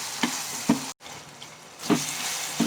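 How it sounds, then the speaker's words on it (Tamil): Salted onion and tomato sautéing in a pan, a close, continuous sizzle punctuated by a few sharp spatula scrapes at regular intervals. "வெங்காயம் தக்காளி ரெண்டுமே நல்லா வதங்கிடுச்சு"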